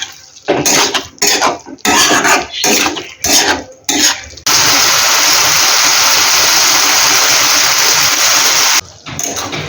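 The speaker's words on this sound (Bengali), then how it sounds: "আমি এবার মোচার সাথে সমস্ত মশলাগুলিকে ভালোভাবে মিশিয়ে নেব।" Banana flower being stirred with spices, sugar and a splash of water in a pan, brisk metallic scraping strokes in quick bursts, then a steady loud sizzling hiss, close up with no talking.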